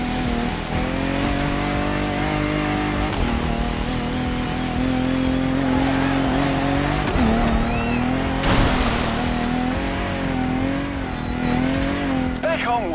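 An off-road vehicle driving over rocky terrain toward sand dunes in the video game The Crew Motorfest, its engine a steady, loud drone that rises and falls slightly throughout.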